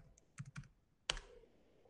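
A computer keyboard is struck a few times, two quick soft keypresses followed by one sharper, louder tap, close and quiet in a silent room.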